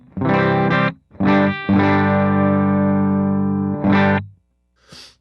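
Distorted electric guitar through a Fractal FM9 amp modeler preset: a few loud chord hits, one held and ringing for over two seconds, then a brief pause and a faint final noise.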